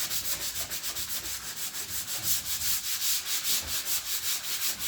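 A Black & Decker power sander fitted with 120-grit paper works over wood, making a steady, close, raspy whir with a rhythmic rubbing pulse as the pad sweeps back and forth, with no voices.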